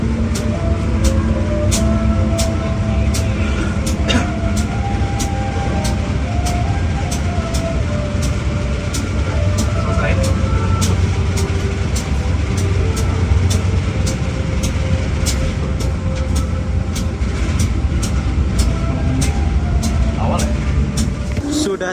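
Economy-class KA Airlangga passenger train running in Indonesia, a steady loud rumble and rattle from inside the carriage with rhythmic rail clicks throughout and voices talking over it.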